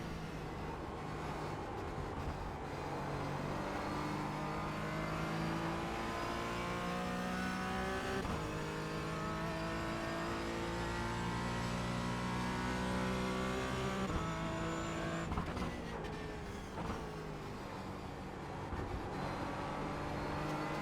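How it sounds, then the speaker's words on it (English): Porsche Cayman GT4 engine at Watkins Glen climbing through the revs toward the rev limiter, rising in pitch with several gear changes and lift-offs, loud and steady from the cockpit. "Let's see if I can find out where that rev limiter is"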